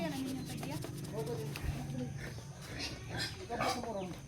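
Pig grunts from a farm pig being bought, repeated low snorts mixed with people chatting nearby in a busy outdoor setting.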